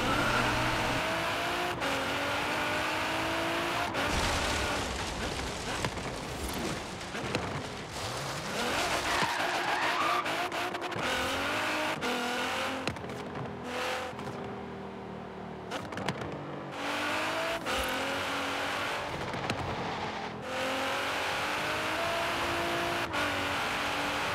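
A Banana GTR with a 1200 HP build races in Forza Horizon 3, its engine revving hard through gear changes with repeated tire squeals and skids, loud and continuous throughout.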